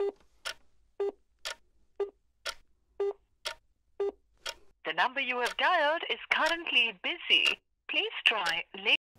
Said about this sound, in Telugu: బిజీ టోన్ వస్తుంది